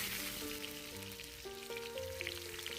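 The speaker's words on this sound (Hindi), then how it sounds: "तेल गरम होने के बाद सबसे पहले डालेंगे हम प्याज को।" Onions frying in hot oil, a faint steady sizzle under a melodic background tune, with no voices over it.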